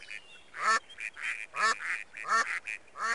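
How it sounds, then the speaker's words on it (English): Repeated nasal quacks from a cartoon duck in the You Don't Know Jack trivia game, four loud honking bursts in a steady rhythm with brief pauses, no talking. "Ducks."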